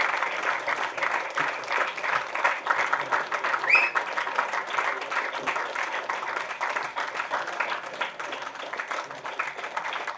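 A large audience at an award ceremony honouring community volunteers claps continuously as guests are called up to the stage, a steady, dense wash of applause that swells slightly midway and carries on without speech.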